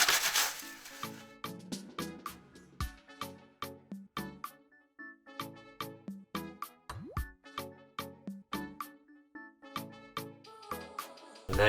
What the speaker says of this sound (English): I'm going to use a stainless steel scourer to scour it off